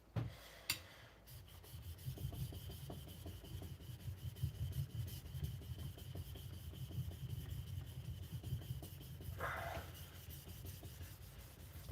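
A hard, custom Swedish 52100 steel blade is rubbed back and forth on a 1000 grit sharpening stone, giving a soft, rhythmic gritty scraping that repeats close by, with a couple of sharper knocks.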